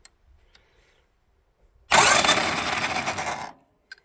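A YUMZ-6 tractor engine fitted with a new starter cranks and fires after quiet shuffling, running loud and rough for about a second and a half before cutting off abruptly.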